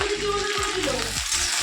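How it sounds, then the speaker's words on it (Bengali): Potatoes frying in a pan in a home kitchen, a loud, steady sizzle with bubbling crackle, close by and continuous, with some stirring. "এদিকে দেখো আলু ভাজা বসিয়ে দিয়েছি"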